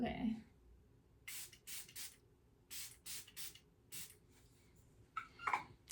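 Divine Water face setting spray by M Cosmetics gives several short, close hissing spritzes in two groups, with a brief rustle and handling sound at the start and end.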